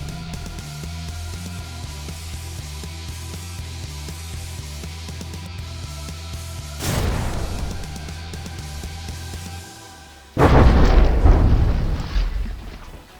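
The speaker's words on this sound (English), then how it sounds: "let's see if she'll actually get it in this bombing run here" Explosions from a bombing run in a video game arrive as two heavy booming bursts, the second louder and closer, over a droning rhythmic engine and music bed.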